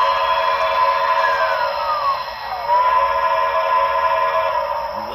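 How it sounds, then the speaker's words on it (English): A model train's electronic whistle sounds a sustained, tonal blast with a sliding pitch midway, held steadily at moderate loudness with no voices over it. "Here's the whistle."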